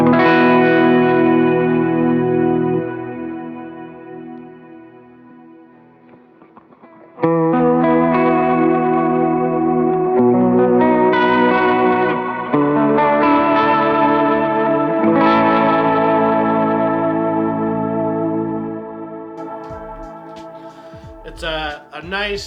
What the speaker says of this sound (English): the Walrus Audio Juliana, which is a stereo, vibrato, chorus kind of sound